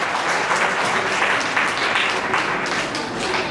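Steady applause from an audience at a floral tribute ceremony for a theatre group, a dense, continuous wash of many hands clapping close by, holding an even loudness throughout.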